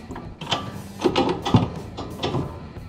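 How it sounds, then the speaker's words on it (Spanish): Metallic clicks and ratcheting of a wrench working a bolt loose on a car's steering assembly, a run of close, irregular mechanical taps and turns. "Entonces vamos a sacar el tornillo"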